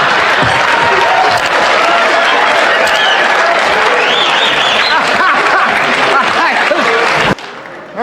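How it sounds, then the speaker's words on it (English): Studio audience bursts into loud, sustained applause and cheering as Rodney Dangerfield takes the stage, a dense unbroken wash of clapping that cuts off abruptly near the end. "The moment Rodney Dangerfield steps onto the stage, the entire studio erupts with applause."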